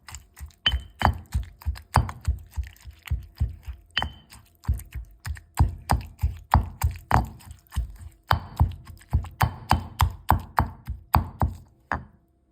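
A pestle pounds eggplant in a mortar for a quick chili paste meant for eggplant soup, making a long run of sharp, steady thuds at about two or three per second, close up and with no talk.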